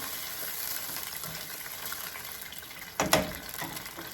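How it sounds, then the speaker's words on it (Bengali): Water is poured into a pan of frying onions for a pangas fish curry. A short splash and gush comes after a few seconds over a faint, steady sizzle. "পানি দিয়ে দিলাম।"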